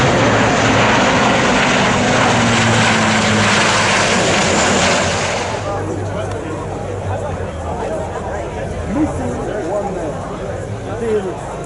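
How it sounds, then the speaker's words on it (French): Low-flying C-130 military transport aircraft pass overhead at a commemorative event at La Fière, a loud propeller and engine roar that fades after about six seconds, with voices and crowd murmur beneath. "on a ces C-130 qui vont passer en très très basse altitude"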